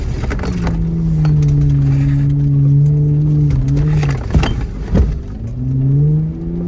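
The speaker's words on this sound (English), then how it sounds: "So we had to give it a little bit of acceleration here and get up and not get stuck." Vehicle climbing a slick, muddy hill after heavy rain at an adventure park, its engine droning loud and steady, rising and straining in pitch, with a couple of sharp knocks partway through.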